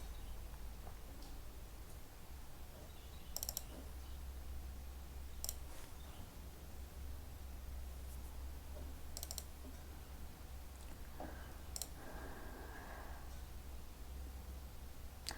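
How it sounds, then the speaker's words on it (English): Sparse, sharp mouse clicks while installing fonts on a computer, a few isolated clicks spread out over a steady low room hum, close and fairly quiet. "Click on install"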